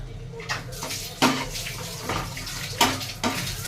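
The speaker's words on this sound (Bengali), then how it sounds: "বাটিটা ধুয়ে জলটা দিয়ে দিলাম।" Water from a rinsed bowl poured into a cooking pan of frying spices, heard as short splashing bursts and sizzles over a steady background hum, close and moderately loud.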